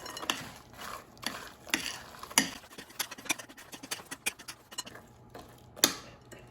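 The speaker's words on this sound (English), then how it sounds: "So add the whole bag of frozen blueberries. And now mix until combined." A spoon stirs frozen blueberries into almond flour cake batter, producing irregular clicking and tapping knocks against the bowl, fairly close and unaccompanied by talk.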